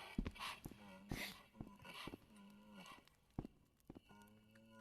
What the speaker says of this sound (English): Is there a cow outside our door?